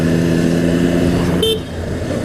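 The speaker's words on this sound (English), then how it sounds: "I went for the turn signal and I hit the horn." A CBR500 sportbike horn gives one short, accidental beep over a loud, steady motorcycle idle close by.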